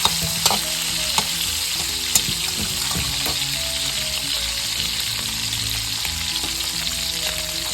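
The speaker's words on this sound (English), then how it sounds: "Let it fry together with the garlic, so it's got that garlic flavor as well over there" Chicken pieces fry with garlic in a hot pan, giving a steady, loud, dense sizzle with occasional sharp pops and light scraping throughout, and no voices.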